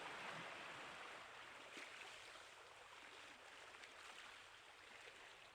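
Waves wash in a continuous broadband rush in the video game Persona 4 Golden, a soft, steady surf with faint swells and no voices.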